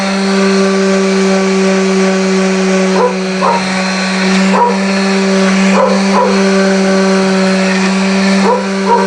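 A dog barks in short, sharp bursts at a few points, moderately close, over a steady humming drone that runs underneath throughout.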